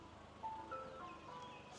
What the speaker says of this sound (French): Ça, c'est le camion de glace.